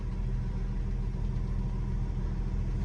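A 2001 Porsche 996 C4 engine idles smoothly and steadily, a continuous low, even hum close by with no ticks or knocks and no talking over it.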